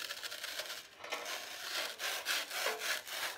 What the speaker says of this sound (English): I'm just using a regular serrated kitchen knife.